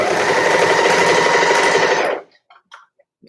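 Close and loud, a sewing machine stitches banding onto a sweater in a quick steady burst of needle rattle lasting about two seconds, then stops, leaving a few faint clicks.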